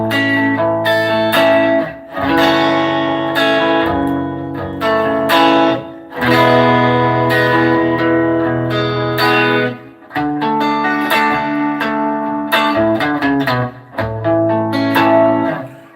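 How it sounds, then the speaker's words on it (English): Electric guitar played through a pedal with reverb and chorus effects, chords and notes ringing out with a washy tail that lingers between strums, loud and close with no talking. "So, you hear the reverb in it now."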